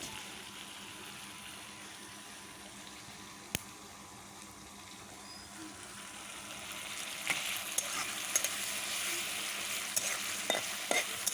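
Spice paste of garlic, ripe chili, ginger and dried chili frying in a pan while being stirred, a soft steady sizzle that grows louder partway through, with occasional utensil taps and no speech.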